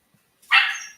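A dog gives a single sharp yelp, close and loud, bursting out of silence and then trailing off quickly.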